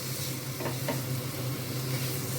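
Eggs and potatoes fry with spices in a pan over low flame, a steady close sizzle running throughout with a few soft stirring scrapes near the start.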